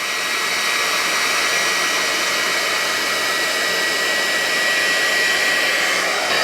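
A GHD Duet wet-to-dry hair styler blowing air, a loud, steady, close whooshing hum with a whine that holds unbroken throughout, with no talking.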